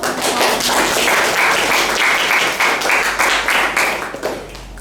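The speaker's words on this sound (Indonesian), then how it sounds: "Tepuk tangan dulu." Classroom applause from university students, loud close clapping in quick rhythm that swells briefly and then tapers off near the end.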